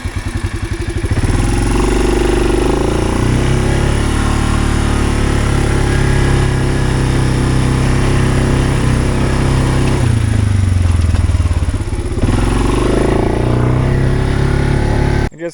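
A farm vehicle drives along past dryland crop fields, its engine droning loud and steady with a rattling clatter throughout and a brief change in pitch partway through.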